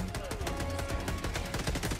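Dense, rapid gunfire in Helldivers 2 fights bots and Hulks in a fiery battle, with sustained bursts of shots crackling loudly and continuously over two seconds amid layered combat noise.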